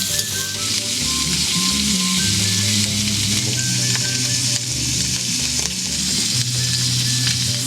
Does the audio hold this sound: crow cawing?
no